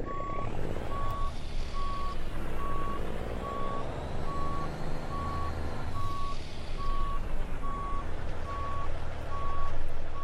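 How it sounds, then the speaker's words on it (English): A truck backs slowly into a parking spot, its reversing alarm beeping in a steady evenly spaced series for the whole stretch over a constant low engine rumble. "Well, we'll get the truck parked in here at least."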